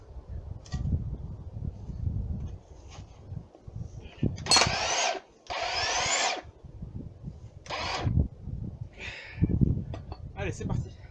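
DeWalt Flexvolt XR DCH733X2 rotary hammer with a 40 mm bit drilling into a concrete kerb, with several short, loud bursts of hammering between pauses while someone talks over a low background.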